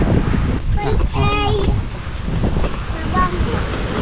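Seaside waves and wind at a beach, a steady loud rush of surf and gusting wind buffeting the microphone, with people talking faintly in the background.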